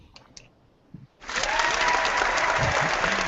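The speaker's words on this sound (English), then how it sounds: "which gets some applause" Audience applause erupts suddenly after a few faint clicks and low noises, then continues as dense, loud, even clapping to the end.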